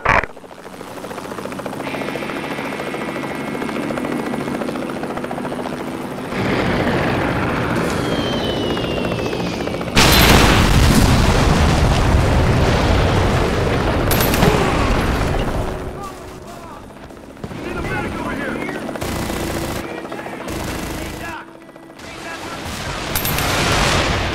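Loud game soundscape from an airstrike in Mercenaries 2: a helicopter drone and rumbling engine noise, then a big broadband blast around ten seconds that keeps roaring and crackling, with sharp bursts and brief drop-outs near the end.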